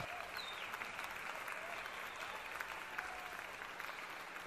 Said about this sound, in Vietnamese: dành một tràng pháo tay thật là lớn rồi đây quý vị